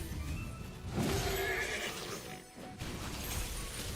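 A horse neighs and whinnies amid a busy game soundscape in AFK Journey, the call rising over steady background effects and music, with faint hoof-like clops mixed in.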